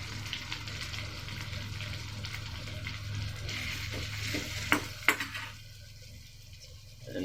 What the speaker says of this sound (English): Keep the pan in flame and add the butter. Going to add the ginger.